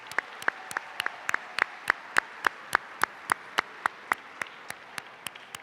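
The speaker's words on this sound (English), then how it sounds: "let's please give them another round of applause" Audience at a teacher and principal of the year awards ceremony applauding the honorees, a steady run of sharp, fairly sparse claps spread across the room, moderately loud with no talk over it.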